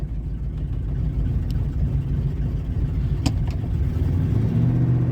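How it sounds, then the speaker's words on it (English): A 2000 Ford F150 engine chugging hard and unevenly in reverse, a steady loud low rumble throughout with a faint clink midway. "When I put it into reverse, it started chugging harder."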